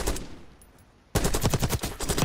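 Rapid automatic gunfire from the Krig C rifle in the video game Call of Duty Black Ops 6, a loud, close, sustained burst that starts abruptly after a quiet moment.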